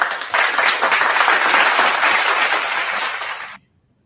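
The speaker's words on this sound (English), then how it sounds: "Give yourself a round of applause, Eric." Applause on a sports podcast, a dense burst of clapping that swells in quickly, holds steady and loud, then cuts off abruptly into silence after about three and a half seconds, likely an inserted sound effect.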